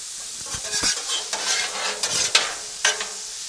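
Taco seasoning being mixed into meat on a Blackstone griddle makes a bright, crackling sizzle under repeated spatula scrapes and taps that come in quick, irregular bursts close up.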